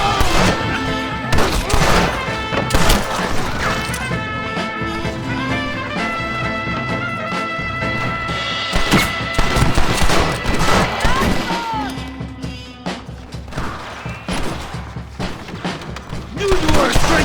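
A Red Dead Redemption shootout: rapid volleys of close gunshots and cracking impacts over a steady music bed, with shouting voices breaking in between the shots.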